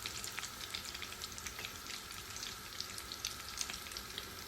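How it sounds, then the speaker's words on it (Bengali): Battered eggplant fritters (beguni) frying in hot oil, a steady dense sizzle with scattered crackles and pops throughout, fairly close and even in level, with no voices. "এরপর আমি বেগুনি ভাজবো।"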